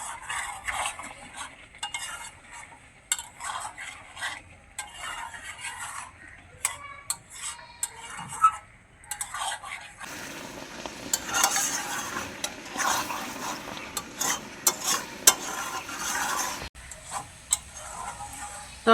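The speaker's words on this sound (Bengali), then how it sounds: "তরকারিটাকে ভালো করে এখন কষিয়ে নেব" Taro curry being stirred and fried down in a pan, with busy clattering scrapes of a spoon against metal over a crackling, hissing fry that grows louder midway, close and without speech.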